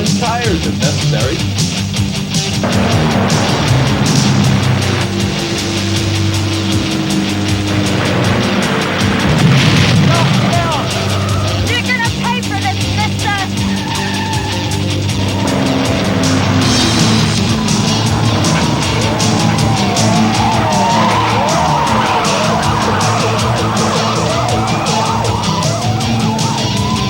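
A car chase with a police car in pursuit, engines roaring under a wailing siren, with skidding tires, impacts and music swelling around it, loud and busy throughout, voices briefly heard.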